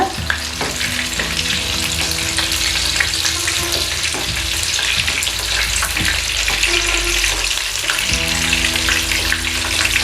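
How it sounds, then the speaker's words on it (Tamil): Chicken pieces for popcorn chicken deep-fry in oil with a loud, dense, continuous sizzling crackle, close and steady throughout with faint occasional clinks and no talking. "எண்ணெயோட சலசலப்பு ஓரளவுக்கு நல்லா அடங்கணும்"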